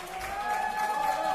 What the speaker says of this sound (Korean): 여러분 박수 한번 부탁드립니다